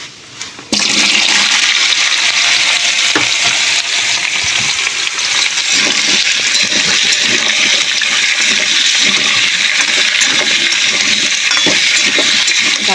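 Cut taro and potatoes fry in hot oil with tempering spices, a loud continuous sizzle and crackle that starts abruptly and holds steady throughout.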